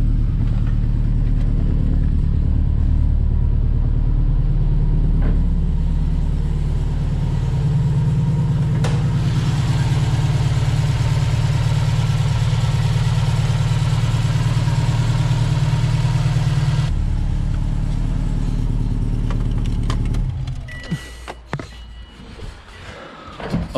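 A car engine with a suspected piston ring failure runs roughly: a steady, loud low drone throughout that cuts out near the end, leaving quieter clatter and knocks.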